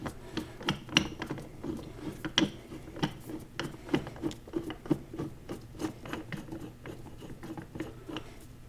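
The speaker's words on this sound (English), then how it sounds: "Next thing we do is we put the puller on there." A bearing puller is fitted and screwed onto a Dana 44 differential carrier on a Jaguar XKE, giving a steady run of soft metallic ratcheting clicks and scraping turns at close range, quiet and fairly regular, with no talk.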